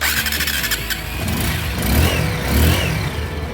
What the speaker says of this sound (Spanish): Ahora la moto ya prendió